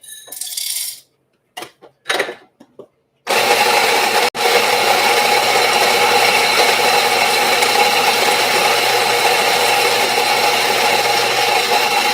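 Murang'a AA Kenyan coffee beans running through a grinder, a few short rattling bursts first, then a long continuous whirring grind close by.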